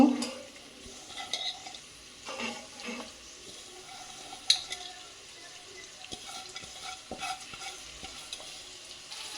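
Shredded cabbage and carrots frying in a pan, a soft continuous sizzle broken by scraping stirs and occasional clinks, fairly quiet with no voices.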